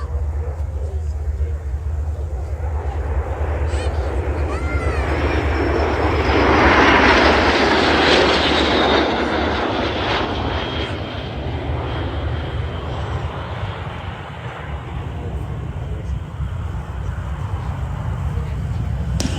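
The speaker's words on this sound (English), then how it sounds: "it does take real pros to fly and maintain these L-39s" L-39 jets flying in formation at the Warbirds Over Wanaka 2026 airshow build to a loud, broad roar midway, then ease back to a steady distant rumble.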